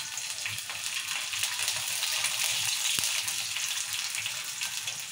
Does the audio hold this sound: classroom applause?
no